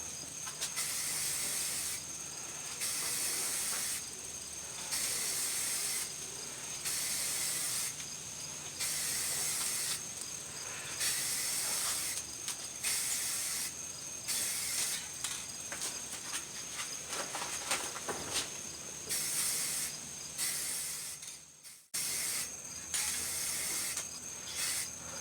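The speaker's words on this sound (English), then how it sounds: "Now we're going to apply the clear coat on it" Spray gun applying clear coat to a primed aftermarket car bumper, long bursts of close hissing spray broken by short pauses as the trigger is released, with faint mechanical clicks and no talk.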